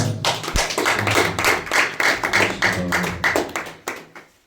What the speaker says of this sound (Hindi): चलिए ये लोग कोई भी ताली बजा दें।